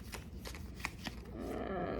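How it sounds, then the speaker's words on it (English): Tarot cards are riffled and shuffled by hand close to the microphone, a series of quick papery flutters that merge into a soft continuous rustle, with no speech. "It's a little challenging to shuffle."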